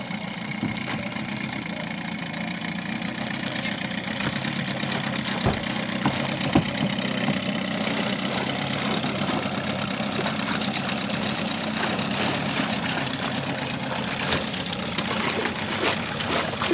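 A motor runs steadily on an airlift sampling setup with an extension pole, making a continuous, fairly loud mechanical drone mixed with watery noise and occasional small knocks.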